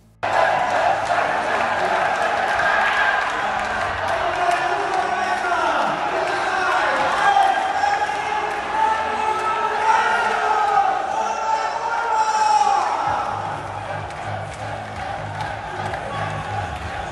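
A big football crowd celebrates Salzburg's victory, a loud, continuous roar of cheering with whistles and shouts rising and falling for the whole stretch.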